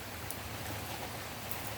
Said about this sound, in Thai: บรรยากาศฝนปล่อย ๆ ยามเช้าตกมาหลายชั่วโมงแล้วนะครับ